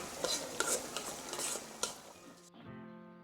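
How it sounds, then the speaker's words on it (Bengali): Hot tempering (baghar) pours into a pot of nihari, giving a dense crackling sizzle with a few sharp pops, then cutting off abruptly into a faint hum. "বাগারটা রেডি হয়ে গেছে, এখন আমরা এটা ঢেলে দিচ্ছি।"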